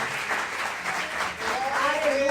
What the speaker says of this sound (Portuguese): Dê uma salva de palmas ao Senhor, porque você tem esperado por esse Deus